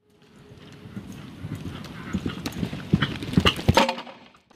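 Military cavalry horses raised at an army veterinary school in Gemlik clip-clop in a steady rhythm of hoofbeats, growing louder and closer, with a faint neigh near the end.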